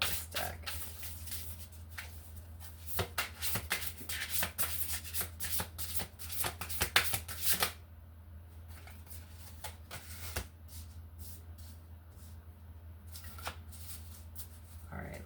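Tarot cards riffled and shuffled in a series of quick crisp bursts for the first half, then quieter sporadic card handling, with faint talk at times.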